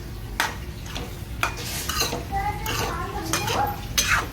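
A spoon scrapes and clinks as food is stirred into spices in a pan, in a series of close, irregular strokes over a faint sizzle, with some talk in the background.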